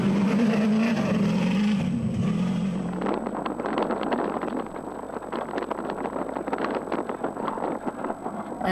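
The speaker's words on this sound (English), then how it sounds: "And now the engine has completely died." The engine of a Motorride Bat Viper special-category rally vehicle dies out: a steady low drone thins and drops away at about three seconds, leaving broadband rushing wind and rattling noise.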